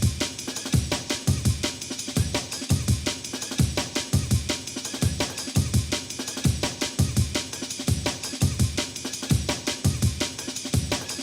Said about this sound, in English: And altogether, the drums sound like this.